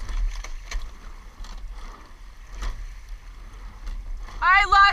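Eight-person rowing boat strokes on water, a few rhythmic splashing catches and knocks heard close through wind and boat noise, with a voice rising briefly at the end.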